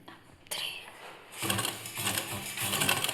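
A sewing machine stitches thread piping onto a blouse, starting with a short whir and then running in a steady, busy mechanical rattle that picks up and continues throughout, up close.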